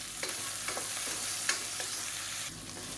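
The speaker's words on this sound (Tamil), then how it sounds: "இப்போ முள்ளங்கி தக்காளி எல்லாமே நல்லா வதங்கிடுச்சு" Radish and tomato sautéing in a pan for a radish potato kuruma, a steady close sizzle with a few sharp stirring scrapes against the pan, no voices.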